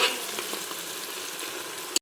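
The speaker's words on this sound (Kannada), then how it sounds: "ಈರುಳ್ಳಿನ ಹಾಕೊಂಡಿದ್ದೀನಿ. ಚೆನ್ನಾಗಿ ಫ್ರೈ ಆಗಬೇಕು." Sliced onions fry in a pan with a loud, steady, close-up sizzle, cut off at the end by a sharp clack before sudden silence.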